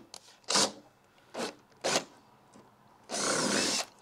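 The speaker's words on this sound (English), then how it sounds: "So we've got our hole taped. We've got our 10mm drill bit." A 10mm drill bit bores a hole in a car body, run first in reverse and then forward, giving three short whirring bursts followed by a longer steady spin, close and fairly quiet.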